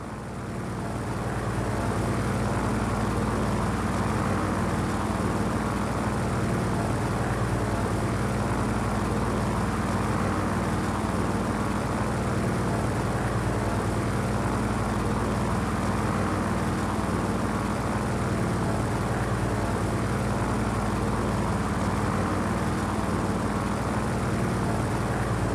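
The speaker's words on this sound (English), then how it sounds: "Unidentified aircraft. This is AGB Tower. You are entering restricted airspace." Steady, droning aircraft engine in the video game Just Cause 4, a constant loud hum with propeller-like tonal layers that holds unchanged for the whole stretch, with no speech.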